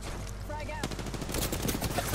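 A fast burst of rapid automatic gunfire in Apex Legends, sharp repeated shots close and loud, with a voice faintly present beneath.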